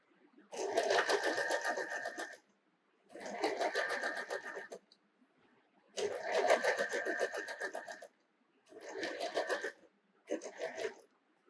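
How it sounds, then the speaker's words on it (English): A sewing machine stitches a fabric seam in five steady running bursts, each one to two seconds long and separated by short silent pauses, heard close and clear with no voices. "align the pieces together properly and then stitch on this stitching line."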